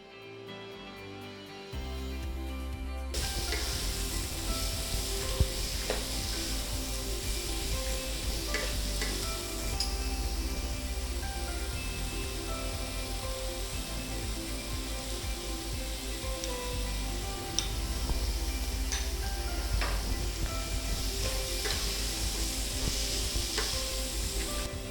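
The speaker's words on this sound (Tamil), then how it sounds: "காரப்பொடி வந்து நம்ம எண்ணெயிலே போட்டு நல்லா வறுத்துடணும்" Chili powder roasting in hot oil for a sweet Ellu Podi and sundal preparation, a steady loud sizzle and crackle with occasional stirring scrapes, starting after a quieter moment and continuing throughout with no talk.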